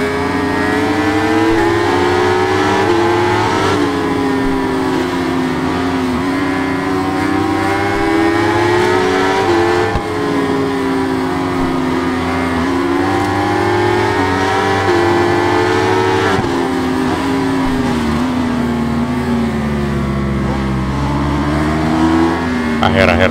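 Superbike engines race around the Mugello circuit in the video game Ride 5, a loud continuous high-revving whine that rises and falls with gear changes through the lap, with a voice speaking over it.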